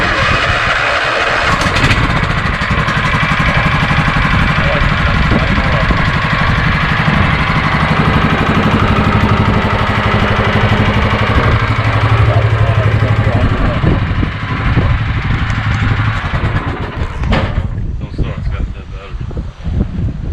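A smoky, free Briggs & Stratton engine on a mower runs steadily at a loud, rough drone for most of the stretch, with voices talking over it near the end.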